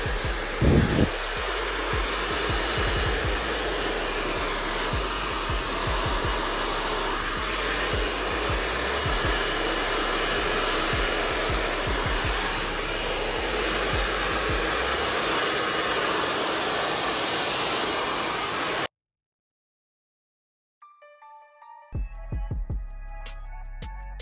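A hair dryer blows hair while a brush works through the front section, giving it volume. The roar is loud and steady for about nineteen seconds, then cuts off into silence, followed by a few faint knocks and rustles.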